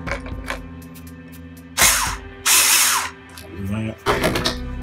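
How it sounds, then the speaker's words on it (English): A power drill whirs in two short bursts, each about a second long, with clicks and mechanical rattles around them, during throttle body cleaning on a Chevrolet Tahoe. "I have my handy dandy drill here"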